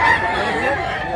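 A rooster crows once, loud and close, in a short, strained call among a group of fighting-type chickens for sale.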